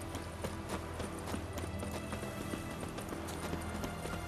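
Hoofbeats of Roach, the horse in The Witcher 3, clopping steadily at a close, moderate volume with a dense layered game background and no talking.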